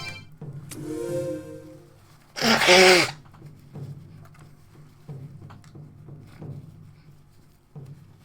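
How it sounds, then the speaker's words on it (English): One sharp, loud sneeze bursts out close by after a short vocal sound, then only faint room noise and small taps follow. "I apologise for any sneezing and coughing that happens today."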